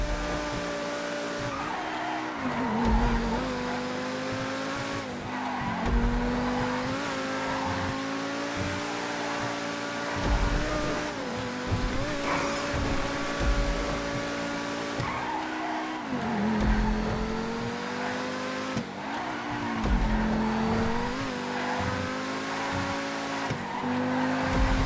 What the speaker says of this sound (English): Just listen to the engine on these 2 clips to hear the differences